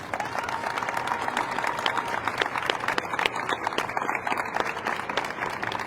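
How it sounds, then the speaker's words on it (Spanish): Audience applause at a political campaign forum in León, a steady wash of many hands clapping with sharper individual claps, sustained throughout. "les quiero pedir un aplauso para ellos"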